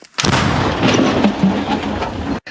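A deep, booming blast of an artillery gun firing in combat on the Lyman–Kupiansk front in Ukraine, with a rumbling roar that rolls on for a couple of seconds before cutting off.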